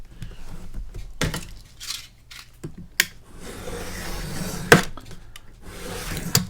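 A piece of chipboard is cut by hand with scattered scraping, rubbing and sharp clicks, fairly quiet and irregular, with a few louder knocks.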